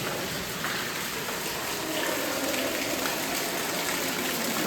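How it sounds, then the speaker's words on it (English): Water pours and splashes inside the Blue Ridge Tunnel, an old railroad tunnel bored through the rock at Rockfish Gap, Virginia, making a steady, close, rushing hiss that never pauses, with no talking. "There's a waterfall inside of the tunnel."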